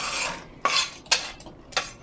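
Chopped onion goes into a hot pan and is stirred, giving bursts of scraping and sizzling hiss in irregular strokes, close and moderately loud, with no voices.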